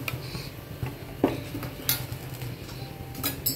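A metal spoon spreads mayonnaise sauce across a chapati on a pan over low heat, giving soft scraping strokes punctuated by a few sharp clinks against the pan, close up with no talking.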